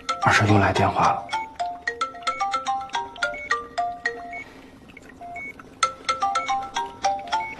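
An incoming call sets a mobile phone ringtone playing, a loud melodic run of bright beeping notes repeating for several seconds, with a brief voice at the start.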